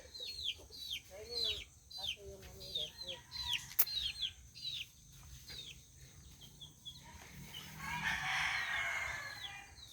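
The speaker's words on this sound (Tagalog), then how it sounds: "Sa kabila may manok yan doon eh." Chickens cluck and chirp nearby while a rooster crows partway through, with a rough rustle or flutter near the end.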